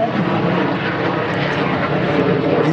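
High-performance propeller plane flying in formation at the La Ferté-Alais air show near Paris, its engine drone steady and loud with a buzzing prop tone, without voices over it.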